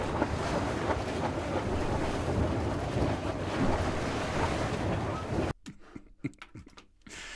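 Soundboard boat effect of a departing vessel: steady churning water and wind-blown surf rumble for about five seconds, then cutting abruptly to a much quieter stretch with a few faint knocks.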